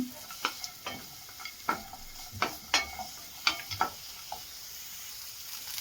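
Oil frying for palak pepper chicken, a steady low sizzle broken by a series of sharp spatula scrapes and taps against the pan, close and moderately loud, with no talking.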